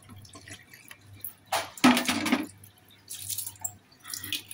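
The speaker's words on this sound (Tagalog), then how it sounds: "Lagyan ko siya ng tubig." Water poured onto a potted Malabar spinach (alugbati) plant in a kitchen, a short close splash and trickle lasting about half a second, with quieter dripping and faint rustling before and after.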